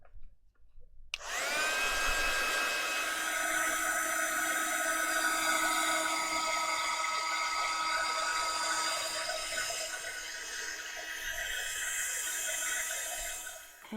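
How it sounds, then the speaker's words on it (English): A heat embossing tool for card making clicks on after about a second and runs as a steady, close, hair-dryer-like blowing whine with a high motor tone, holding level with no talking until the end. "let's get in there now with the heat tool. What I'm going to do is I'm going to switch this on and let it to heat up"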